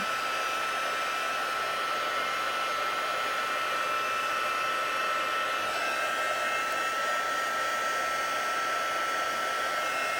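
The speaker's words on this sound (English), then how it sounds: "I'm just running the heat over it." Heat tool blowing hot air over a scratch and sniff card, a steady, loud, continuous whooshing roar with no change in pitch throughout, with no other sounds present.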